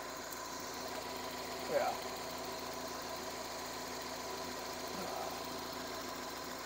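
A Mazda Miata 1.6 engine idles steadily at close range, a constant low mechanical hum with faint ticking, while someone briefly speaks over it.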